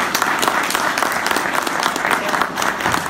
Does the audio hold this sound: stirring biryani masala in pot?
no